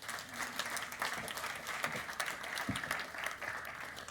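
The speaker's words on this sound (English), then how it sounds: "Round of applause for the video." Applause from an audience at a science-talk competition semi-final, a fairly quiet but continuous patter of many hands clapping, heard at a distance, with a brief thump partway through and no voices.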